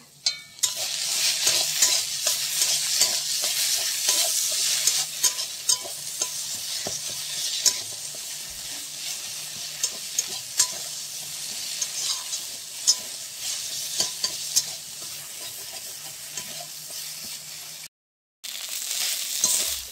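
Bottle gourd leaf paste is stirred in a hot pan, a continuous close sizzle with a spatula scraping and rustling through it, ending with a brief drop to silence near the end.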